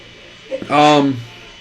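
A single close sneeze, a quick sharp intake followed by a loud voiced burst that trails off, with no talking.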